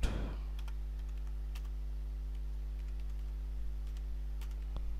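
Keys tap faintly on a computer keyboard as a password is typed, a sparse scatter of light clicks over a steady low electrical hum.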